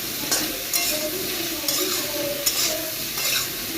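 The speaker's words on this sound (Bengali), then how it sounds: "উচ্ছে আর বেগুনটা ভেজে নেব" Bitter gourd and eggplant frying in a pan, giving a continuous close sizzle with periodic scraping stirs and light utensil knocks every second or so.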